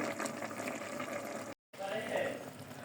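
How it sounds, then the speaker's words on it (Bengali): Water poured into a pan of fish curry while it cooks in a Bengali home kitchen, a steady liquid pouring and sizzling wash that stops briefly midway and then resumes, close and fairly loud. "তারপরে আমি পরিমাণ মতো একটু জল দিয়ে দিব"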